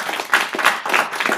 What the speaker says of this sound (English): I think she deserves a clap.